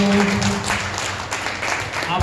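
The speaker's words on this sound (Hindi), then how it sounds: "जोरदार तालियां अपनी नई कार्यकारिणी को।" An audience at an annual gathering of former soldiers applauds its newly formed executive committee. A voice opens over the start of the brisk, scattered clapping, which then carries on steadily.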